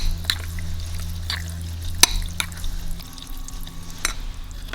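Tapioca pearls stirred with food coloring in a bowl give off soft, wet, sticky clicks and scrapes, close by and fairly sparse, with a few sharper taps against the container and no voices.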